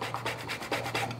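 Lemon zest being grated against a grater, heard as a rhythmic series of close, raspy rubbing strokes, about five quick scrapes with no voice over them.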